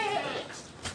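Garut cross sheep and Jawa Randu goats bleat close by, one wavering cry followed by a fainter second call, with a voice faintly underneath.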